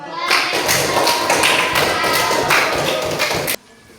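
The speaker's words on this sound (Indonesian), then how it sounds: "tepuk tangan" A short burst of clapping from a small group in a classroom, brisk and fairly close, which stops abruptly after a few seconds.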